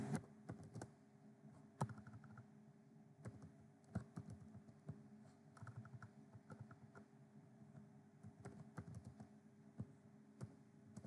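Brisk typing on a computer keyboard while coding, close and clear, with irregular clusters of key clicks and occasional louder thumps of heavier keys, steady throughout without talk.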